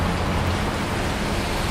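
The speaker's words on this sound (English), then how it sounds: "You see it's raining right now, man." Steady, dense rain falls outdoors, a continuous broadband hiss with no pauses and no voices.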